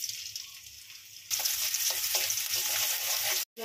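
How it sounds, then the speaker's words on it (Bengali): Garlic and green chilies hit hot oil in a wok, bursting into a loud, steady sizzle after a quiet start, with a few stirring scrapes, then briefly cutting out near the end. "দিয়ে দিলাম তেল, রসুন আর কাঁচামরিচ কেটে রেখে দিয়েছি সেটা দিয়ে দিলাম।"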